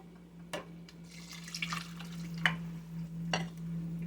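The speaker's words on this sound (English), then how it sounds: "I'm going to add just enough water to get this covered" Water is poured into a pot of Cajun red beans with the holy trinity, giving soft splashes and drips in a few brief bursts over a steady low hum, close and fairly quiet.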